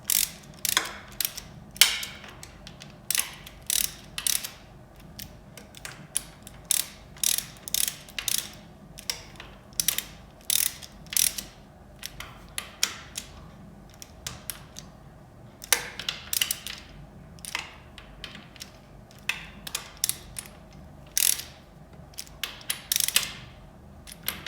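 Ratchet wrench clicking in short repeated bursts while snugging bolts on a KTM 300 cylinder kit, crisp close ratcheting strokes separated by brief pauses.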